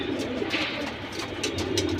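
Silver pigeon chicks coo steadily and softly up close, a continuous low throaty murmur with faint chirpy accents and no talking.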